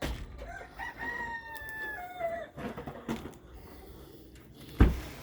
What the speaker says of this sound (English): Time to feed the chickies.